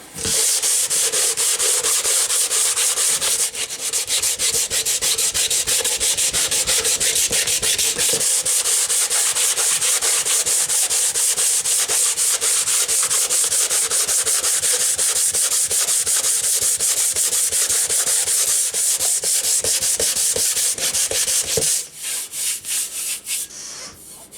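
Continuous loud rhythmic sanding of a cured, scraped surface runs for over twenty seconds close up, then breaks into a few shorter strokes at the end.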